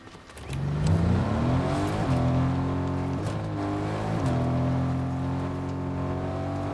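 Supercar driving in a video game, a steady engine drone with rising and shifting revs through gear changes, loud and continuous for several seconds with no talk over it.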